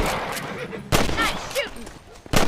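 Red Dead Redemption gunshots crack sharply in a few separate, loud bursts spaced across a short stretch, with in-game voices heard between them.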